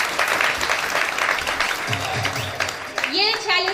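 An audience at a financial-freedom seminar bursts into applause, broad clapping that fills the room while a voice keeps talking over it, the clapping fading as speech takes over near the end.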